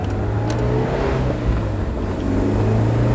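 Honda S2000 with a new exhaust and intake revving from inside the car, a steady, fairly loud engine drone with a low rumble that swells slightly toward the end.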